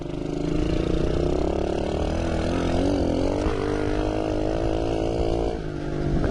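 A 125cc dirt bike engine runs steadily, a dense, continuous mechanical drone with shifting harmonics that rise and fall slightly as the revs vary, loud and close throughout, briefly dipping near the end.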